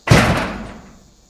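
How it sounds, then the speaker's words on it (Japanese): A door is forced and bent with a single loud, close bang that rings briefly and fades over about a second. "時は大きな音とともにドアが大きく歪んだ。"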